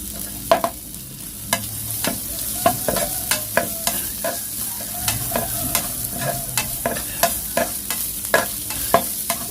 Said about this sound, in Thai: พอกระเทียม จะเริ่มกรอบครับ ผมก็จะใส่พริกซอยลงไปครับ ผัดครับผม